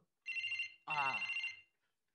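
A telephone rings in two clear electronic bursts, a short one followed by a longer one, with a brief gap between them and no talk over the ringing.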